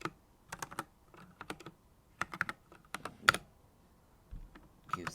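Code is typed on a computer keyboard in quick, uneven bursts of crisp key clicks with short pauses between clusters, close and clear with no talking.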